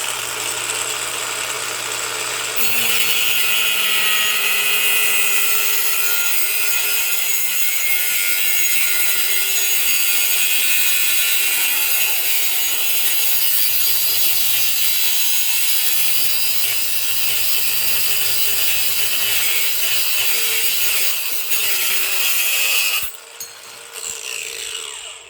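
Macallister 18V cordless angle grinder cutting through 2mm tubing, a loud continuous high-pitched metallic screech held steadily for about twenty seconds before the disc winds down.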